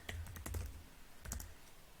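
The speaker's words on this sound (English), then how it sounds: "So I'm going to type in how to install Docker and Docker" Typing on a computer keyboard: a few quick bursts of close, crisp key clicks with a short pause between, quiet and alone.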